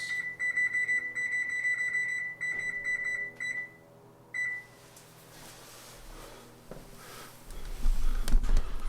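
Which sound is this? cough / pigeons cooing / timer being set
timer being set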